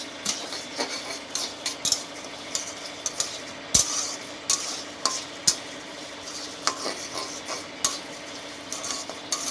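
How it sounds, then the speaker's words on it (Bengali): Rice grains dry-fry in a pan on a gas stove for Vishwakarma Puja prasad, a metal spatula scraping and clinking against the pan in irregular strokes over a faint background hiss. "চালগুলো ভেজে নিই।"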